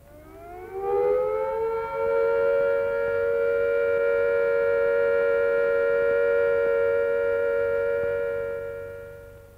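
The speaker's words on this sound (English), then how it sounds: "the siren will sound a steady note" A UK civil defence siren winds up and then holds a steady all-clear tone, loud and sustained for several seconds before starting to fade, with no voices.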